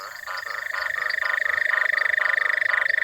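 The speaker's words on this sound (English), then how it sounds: "Making all these sounds costs frogs a lot of energy." A chorus of frogs calls in a fast, regular pulsing rhythm, loud and close, with a steady trilling drone running beneath the repeated croaks and no voices.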